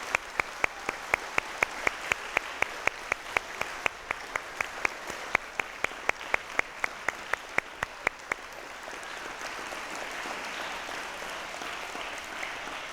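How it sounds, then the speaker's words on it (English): A school assembly of elementary children claps in a quick, even rhythm of sharp slaps for about eight seconds, then the sound dissolves into a diffuse, softer crowd wash. "give a big round of applause for all of your teachers here today"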